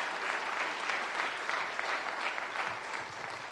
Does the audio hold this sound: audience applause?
yes